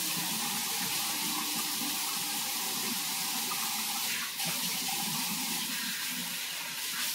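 Tap water runs steadily into a sink while hands are washed, a constant broadband splashing hiss at moderate level with slight changes as the hands move through the stream.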